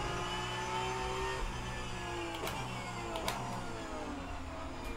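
Porsche Cup race car engine accelerating in the rFactor 2 racing game, a steady mid-pitched rising drone with other cars close by, heard alone without talk for about five seconds.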